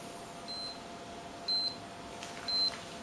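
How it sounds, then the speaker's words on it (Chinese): An electronic key fob sounding its lost-alarm after losing contact with an iOS device: short, high-pitched beeps repeating about once a second, clear and close against a quiet background. "keyfob 端一直鸣叫，哔哔哔哔哔"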